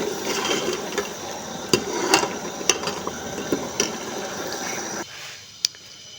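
Chicken achari masala being stirred and sautéed in a pan with garlic and onion: a low frying sizzle under a string of sharp clicks and scrapes from the spoon against the pan, which stop abruptly near the end.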